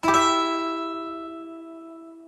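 A lead guitar triad in fourth position rings out as a single bright plucked chord, struck sharply and then left to sustain and fade slowly over about two seconds, alone.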